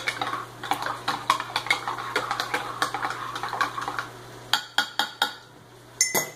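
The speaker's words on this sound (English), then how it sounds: "stir it up" A spoon clinks against the inside of a mug while stirring hot chocolate, making a quick run of bright metallic taps that slow to a few spaced knocks at the end.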